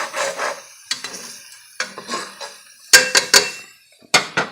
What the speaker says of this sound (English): I'll give it a nice stir, get it all good and coated